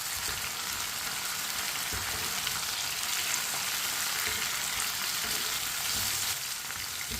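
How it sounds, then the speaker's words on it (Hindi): Chopped tomatoes stirred into lightly browned onions in a pan for a bhindi masala, giving a steady, close sizzle and frying hiss with soft stirring scrapes throughout, no voices. "टमाटर को मैंने मिक्स कर लिया।"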